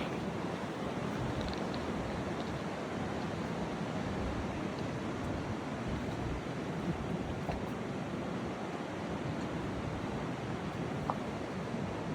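A mountain river rushes in a steady, dense roar along the road toward Tilicho Lake, blending with gusting wind noise. The sound stays constant and loud throughout, with no voices.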